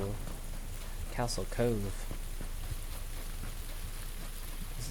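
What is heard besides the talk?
rain falling in the video game PUBG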